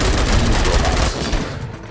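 Rapid gunfire from the video game Robocop, a loud burst of overlapping shots that tapers off near the end.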